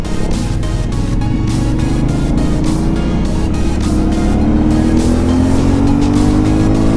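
An Aprilia Shiver 900 motorcycle on its stock exhaust runs loud and close, engine note climbing steadily under acceleration, with rapid popping in the exhaust.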